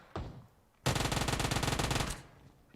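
Gunfire in the mobile battle royale game PUBG Mobile: a short early shot, then a sustained burst of rapid automatic fire lasting over a second before it stops, with no voices.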